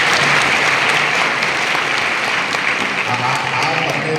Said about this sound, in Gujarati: ધન્યવાદ તાળી પાડો દીકરી માટે